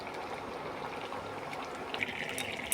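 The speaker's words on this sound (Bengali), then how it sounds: "আর গরম জল দিচ্ছি কারণ তাড়াতাড়ি সেদ্ধও হয়ে যাবে" Hot water poured into a simmering curry in a home kitchen, a steady soft liquid pour and trickle throughout, fairly quiet and close with no talk.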